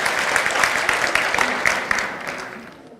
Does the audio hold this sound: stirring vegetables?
no